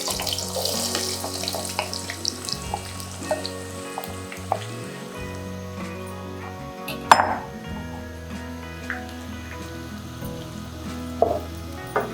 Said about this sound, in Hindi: घी हमारा गर्म हो चुका है तो इसमें मैं प्याज डाल रही हूँ।